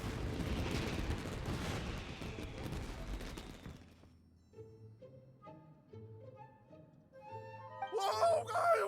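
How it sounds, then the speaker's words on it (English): Fireworks bursting in the video game Genshin Impact, a dense rumbling crackle of blasts for about four seconds, then quieter game music with a few sharp pops near the end. "Yoimiya, this is turning into a bit of a fireworks display"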